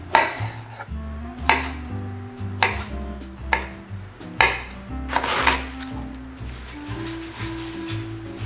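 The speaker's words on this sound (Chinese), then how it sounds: "香菇、茄子跟高丽菜把它切成小块状。" A knife chopping shiitake mushrooms, eggplant and cabbage into small pieces for vegan pan-fried dumplings, with sharp, evenly spaced thuds on the board about once a second over soft background music.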